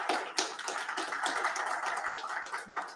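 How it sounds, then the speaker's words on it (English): Sustained applause from a conference audience, a dense, even wash of many hands clapping together at moderate volume for the full stretch, with a few sharper swells near the start and end. "a quick round of applause in advance for Omio"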